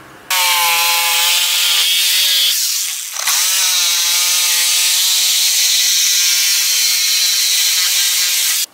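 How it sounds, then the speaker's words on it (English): A reciprocating saw whines loudly and steadily through pallet wood, with one brief pause before it resumes cutting at full power. "I'm going to cut it with my sawzall"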